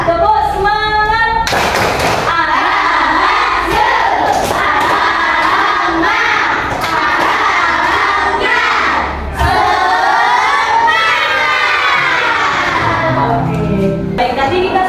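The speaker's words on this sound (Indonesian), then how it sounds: "Baik, tadi kita sudah melakukan tepuk semangat." Elementary school pupils in a Grade 4 classroom perform a 'tepuk semangat' spirit chant, loud massed children's voices shouting together with rhythmic clapping and thumps running nearly continuously, a teacher's voice heard at the end.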